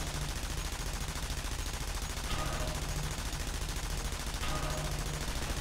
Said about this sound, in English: You're shooting with the turret